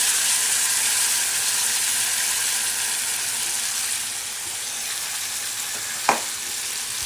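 Poppy seed and sesame paste drops into a hot frying pan with paneer, moong dal and moringa drumsticks, a steady loud sizzle running throughout with one sharp clack of a utensil near the end.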